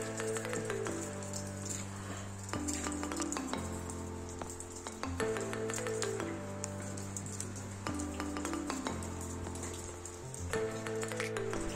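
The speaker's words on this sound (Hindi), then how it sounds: "और अभी बारिश भी बहुत ही ज्यादा पड़ रही है।" Heavy rain falls outdoors at a market, a steady dense patter mixed with a repeating musical pattern, loud and continuous throughout.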